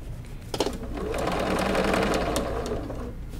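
A sewing machine stitches a reversible quilted shopper tote bag, its motor running in a steady, close whir for most of the stretch, with no voices over it.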